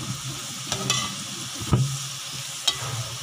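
Chopped onions browning in hot oil give a steady, close sizzle, with a few sharp spoon clinks against the pan and no talking.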